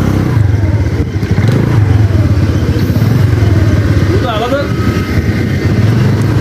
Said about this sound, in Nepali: ट्र्याक्टर निकाल्दै है यहाँबाट